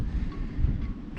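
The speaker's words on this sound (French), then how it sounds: "Toujours un petit vent d'est, 10-15 nœuds, 17 parfois." An east wind of 10 to 15 knots, gusting to 17, blows across the marina at Bormes-les-Mimosas, buffeting the microphone with a continuous low rumble and rush and no voices.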